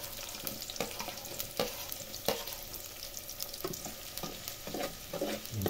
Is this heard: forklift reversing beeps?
no